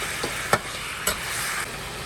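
Pork ribs for sweet and sour ribs are stir-fried in a wok over steady sizzling, with a few sharp clanks of the spatula against the pan, close and alone without talk.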